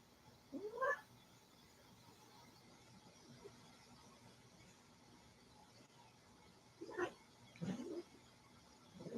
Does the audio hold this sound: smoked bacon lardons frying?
no